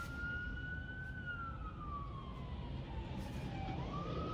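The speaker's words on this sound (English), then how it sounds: "I hear sirens from an emergency vehicle." A distant emergency vehicle siren wails steadily in downtown Edmonton over a constant road and car engine hum, its pitch slowly gliding down then back up.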